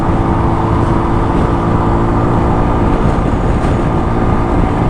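Kuba Superlight 125 motorcycle running under throttle on a highway: a loud, steady engine drone with heavy wind rush, continuous and close throughout, no talking.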